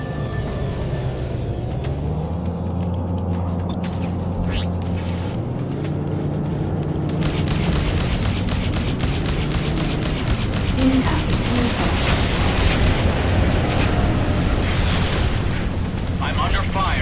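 Booming explosions and weapons fire in the space combat game Freelancer, a dense, loud, continuous rumble of blasts with engine drone and rapid pulsing bursts in the second half.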